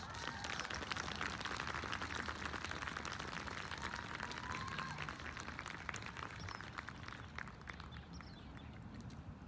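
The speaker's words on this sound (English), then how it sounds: "Let's give a big round of applause to our student speakers." Audience applause for student speakers at an 8th-grade culmination ceremony, a dense continuous wash of clapping that holds steady for several seconds before gradually thinning and softening.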